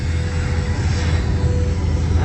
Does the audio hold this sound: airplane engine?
yes